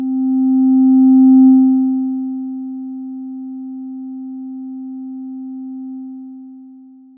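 A steady synthesizer oscillator tone that swells in slowly, dips as it decays to a held sustain level, then fades out on a long release, a pure sine-like pitch heard alone.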